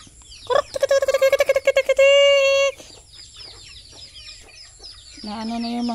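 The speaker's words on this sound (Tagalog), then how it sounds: "mapakain pa ako sa aking mga alagang manok." Backyard pet chickens at feeding time, near and loud, giving a fast run of clucks followed by a sustained squawk, then scattered softer clucking before another drawn-out call.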